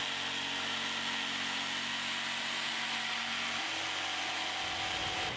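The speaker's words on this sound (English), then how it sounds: "The GST 140 is capable of cutting dead straight in a variety of materials" A Bosch GST 140 jigsaw runs steadily with a high buzzing whine, a continuous loud cutting drone with no pauses and a slight shift in pitch near the end.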